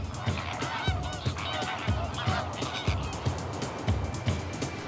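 A flock of geese honking in the Ebro delta wetland, repeated nasal honks overlapping in a busy rhythmic chorus, fairly close and loud, with no voices.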